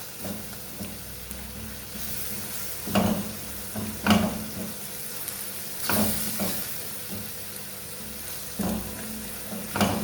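A spicy and sweet red pepper sauce, Algerian-style fried peppers, sizzles steadily in a pan, a continuous soft hiss with a few sharper stirring scrapes spaced out, close by and with no speech.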